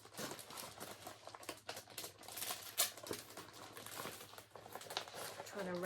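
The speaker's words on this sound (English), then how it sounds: "trying to wrestle these back into the bag. Sorry for the zips and the noise" Plastic bag crinkling and rustling with zipper pulls as cross-stitch projects are packed back into a bag, a busy run of close crackles and scrapes that continues while a person talks.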